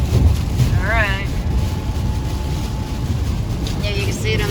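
Strong wind buffets a vehicle during a night tornado chase in Mississippi, a steady loud roar filling the whole clip, with brief voices and a faint whistling tone over it.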